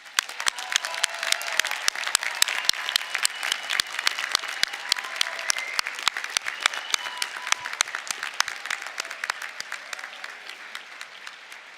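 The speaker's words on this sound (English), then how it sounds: "Let us give a round of applause to these exceptional graduates." A commencement crowd applauds graduates at a December university ceremony, many individual claps sharply audible within a steady wash of clapping that holds for nearly twelve seconds and thins slightly toward the end.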